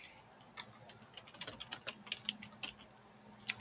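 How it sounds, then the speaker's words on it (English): Light tapping on a computer keyboard, a quick irregular run of soft clicks and keystrokes at close range in a quiet room, with a faint steady hum underneath. "Germ's busy typing away."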